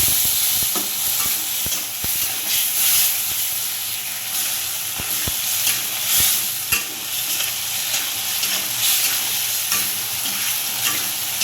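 Fried potatoes tumble into a rohu fish curry frying in a pan, and a loud steady sizzle runs throughout, broken by sharp scraping clicks of stirring at irregular intervals; no voices.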